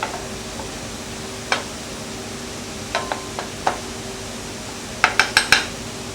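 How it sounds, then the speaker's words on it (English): A spoon scrapes and taps against a pan while a flour and butter roux is stirred over moderate heat, with scattered single clinks and a quick cluster of sharper knocks near the end over a quiet background hiss. "But it's essential that you keep stirring, otherwise the flour will singe and burn."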